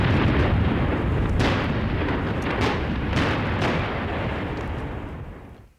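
Heavy gunfire and explosions from a 2003 tank battle near Basra between British Challenger tanks and a column of Iraqi tanks, heard as a loud, continuous, rumbling roar with several sharper blasts and bursts breaking through.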